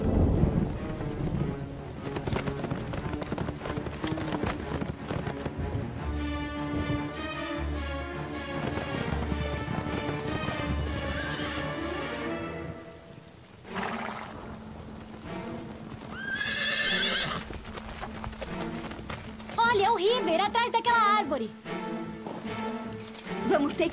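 In an animated horse-ranch scene, hooves clip-clop in a steady rhythm amid rain and rumbling thunder, with whinnies rising above, background music and people talking over the sounds.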